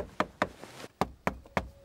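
Six sharp knocks on a hard plastic car dashboard top, close and dry, in an uneven rhythm with short gaps between them.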